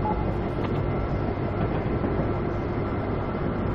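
A train in the Railworks simulator game idling near East River Tunnel, a loud steady rumbling drone with a constant low engine hum throughout and no voices.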